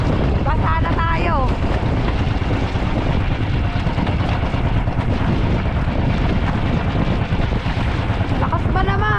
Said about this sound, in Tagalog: Lakas pa naman. Lakas pa ng hangin.